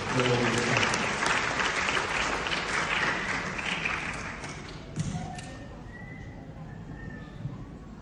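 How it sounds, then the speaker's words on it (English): An audience at a dance showcase applauds loudly, the dense clapping fading out midway into quieter room sound with a few thumps and faint voices. "Another round of applause."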